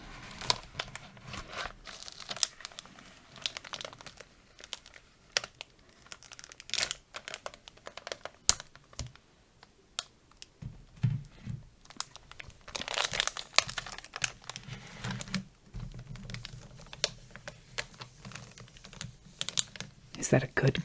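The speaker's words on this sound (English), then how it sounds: "this is how they arrive, in a black envelope. And get ready for some crinkles." A black envelope holding a magazine crinkles and crackles in close, irregular bursts of crisp rustling over about twenty seconds, with soft speech in between.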